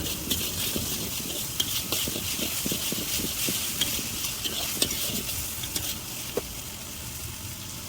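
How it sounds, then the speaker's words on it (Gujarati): Broccoli sautéing in a pan for a homemade Manchurian dish, a steady sizzle with scattered stirring clicks and scrapes throughout, fairly close and continuous with no talking. "આપણે એમાં નાખી દઈશું પહેલાં બ્રોકલી અને બ્રોકલીને આપણે થોડી વધારે સોતે કરીશું"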